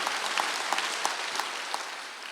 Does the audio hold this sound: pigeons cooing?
no